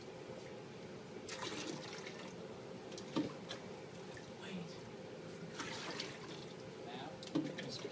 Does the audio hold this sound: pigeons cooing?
no